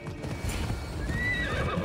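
Horses gallop with rapid clip-clop hoofbeats and a whinny in Assassin's Creed Odyssey, the steady pounding close and alone, with a high neigh rising near the end.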